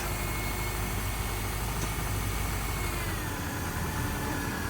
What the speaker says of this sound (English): Started it up with the jump box.